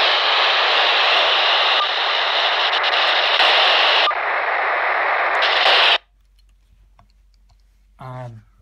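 Motorola Astro Saber VHF handheld radio on push-to-talk with squelch: a loud, steady hiss that runs for about six seconds, cuts abruptly to near silence, then a brief warbling tone burst near the end.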